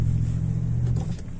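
A 1987 Cadillac Brougham D'Elegance with a 5.0-litre V8 idles with a steady, deep burbling rumble, close and loud, that dips slightly near the end, with no talking over it.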